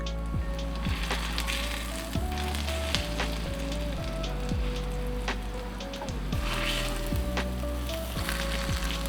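A daikon steak sizzles in a pan with a constant moderate hiss and scattered pops and spatters, and a few brief knocks and taps of utensils.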